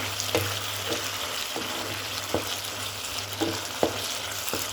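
Tomato chutney with chopped coriander and green chilies cooking in a pan, a steady sizzle with a low hum beneath and several sharp clicks of a spoon stirring against the pan.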